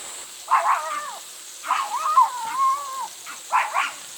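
A dog at a campsite gives a few short yelping, whining barks in separate bursts, somewhat distant over a quiet night background, with no talk.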